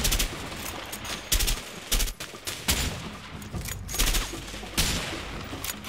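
Gunfire in the video game A Way Out, repeated sharp shots and short bursts in an irregular rhythm over a constant background din, close and fairly loud.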